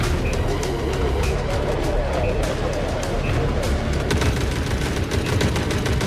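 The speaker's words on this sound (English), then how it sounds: "Bro, they're a firing squad, bro." Dense, continuous gunfire from a firing squad in The Forever Winter video game, rapid overlapping shots at high level with rumbling background, while someone talks over it.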